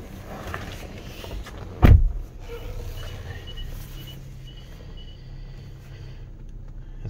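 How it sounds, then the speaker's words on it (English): A 2011 Mazda CX-9 automatic power tailgate closes with one sharp thud, followed by a low, steady mechanical hum that fades over several seconds in a quiet setting. "We have a power tailgate function. So the tailgate's automatic."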